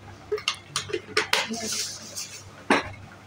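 Utensil scraping and clinking in a cooking pot as telakucha (ivy gourd) leaves are stirred with boiled potato and a little sugar, a series of sharp metallic scrapes and knocks at close range with no talking.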